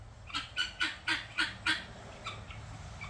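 Guinea fowl give a noisy run of about six harsh, rhythmic calls close by, then a couple of fainter calls trail off toward the end, with no talking.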